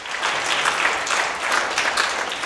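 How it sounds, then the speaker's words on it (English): At a community anti-racism event, an audience claps in a full, continuous round of applause, a dense rushing patter of many hands close by. "I'd like you to give a big round of applause"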